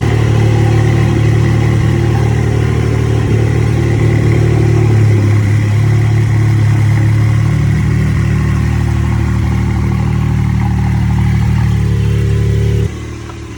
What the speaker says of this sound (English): this is 2020 Porsche 718 Cayman GT4, and this is the entry-level GT sports car from Porsche